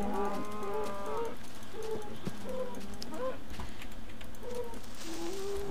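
Minecraft cows moo several times in a row, short and longer calls overlapping over constant game ambience, fairly loud and near.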